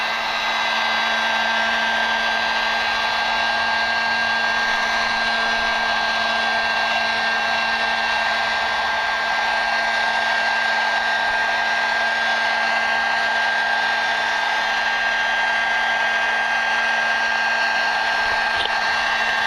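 A hair dryer blows on truck seats to dry them, held about a foot away and kept moving, giving a loud, constant whine with a steady tonal hum from start to finish and no talking.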